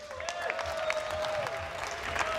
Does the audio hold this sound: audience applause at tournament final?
yes